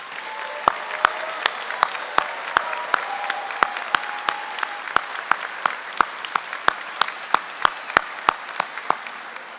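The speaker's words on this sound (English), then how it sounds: "giving our graduates yet another celebratory round of applause" A crowd at a medical school commencement gives graduates a warm round of applause, many hands clapping steadily in a sparse, even patter that carries through the hall.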